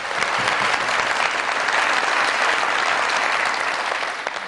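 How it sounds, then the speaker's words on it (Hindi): A studio audience at a comedy talk show applauds steadily for a film actor guest, a dense, loud wash of many hands clapping that holds at an even level from start to finish with no voices over it. "बहुत सारी तालियां साउथ साहब के लिए"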